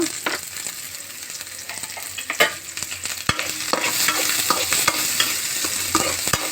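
Onions sizzle steadily in a hot pan for peanut chutney, with repeated scraping clicks of a spatula stirring them, close and fairly loud, no voices.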